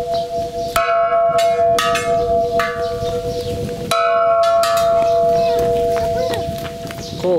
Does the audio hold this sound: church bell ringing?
yes